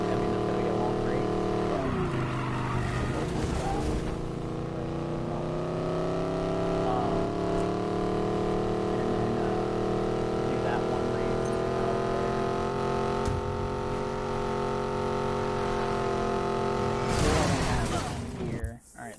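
Race cars driving in a video game race, a steady sustained engine drone with shifting pitch, loud and continuous, with brief bursts of revving near the start and end, and talk over it.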